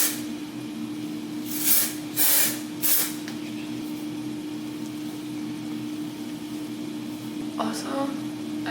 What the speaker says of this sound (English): what I will do is put some dry shampoo in my roots